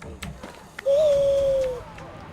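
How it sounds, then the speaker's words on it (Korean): During an owl attack in Far Cry Primal, a single drawn-out hooting cry sounds near and clear for about a second, set against quiet background game noise. "여기서 여러분들 부엉이 공격을 한 번 더 하고 갈게요"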